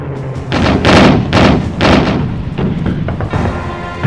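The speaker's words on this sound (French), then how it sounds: "au sol par un tir de barrage massif de l'artillerie" Massive artillery barrage at the Battle of Kursk, heard as a series of heavy, booming thuds about half a second apart that swell loud and then roll on into a dense, rumbling volley.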